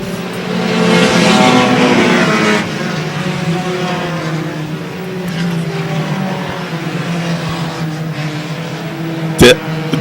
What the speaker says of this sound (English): Josh Laporte has picked off 4 or 5 cars and moved through.